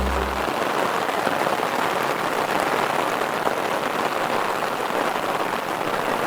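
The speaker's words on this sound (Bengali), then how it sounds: "প্রচণ্ড বৃষ্টি পড়ছে এই মুহূর্তে" Heavy rain pours down over rice-field embankments at night near the Kalagarh Tiger Reserve in Jim Corbett National Park, making a dense, constant, loud hiss with no pauses.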